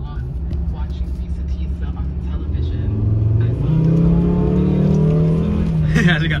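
A diesel truck engine idles with a low rumble, then revs up and holds a deeper, louder drone; a person talks briefly over it.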